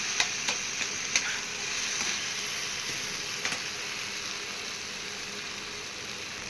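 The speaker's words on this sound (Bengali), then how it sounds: "একদম শুকনো করে এটাকে কড়াইতে নেড়ে নিতে হবে" Boiled taro flowers are stirred dry in a wok, giving a soft continuous sizzle with a few sharp ticks of the utensil against the pan early on, with no talk.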